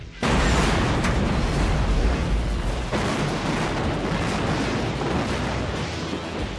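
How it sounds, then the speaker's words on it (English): A building demolition blast sets off loud booming detonations that roll into a long, dense roaring rumble. "I mean, it's very loud explosion."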